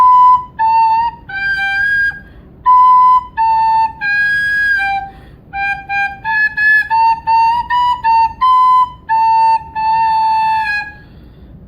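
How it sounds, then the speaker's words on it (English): Recorder notes played with a finger hole left partly uncovered, so a thin, whistly squeak rides over a simple melody, with about a dozen short notes phrased in clear groups, close and fairly loud, with no talking. "if you're trying to play a song and one of your holes is not covered correctly, you're going to get a squeak."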